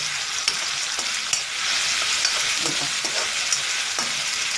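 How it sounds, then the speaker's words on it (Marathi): Onion and masala frying in oil for a matki and cauliflower kurma, a bright, steady hiss of sizzling with occasional soft stirring scrapes, close and fairly loud throughout. "थोडा आणि कांदा पण लाल होऊन द्यायचा, कांदा पण शिजून येईल"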